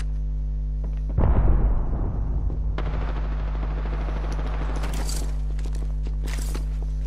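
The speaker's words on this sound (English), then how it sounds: "Getting shot at." Gunfire crackles in a fast-paced online shooter, a rapid burst of shots followed by scattered further reports and faint clicks over a steady hum.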